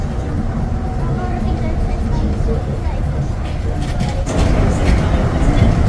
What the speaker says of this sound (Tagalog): Ang bilis ng tren talaga nila.